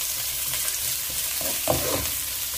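Onion and chili sautéing in hot oil, a steady close sizzle with a few stirring scrapes partway through.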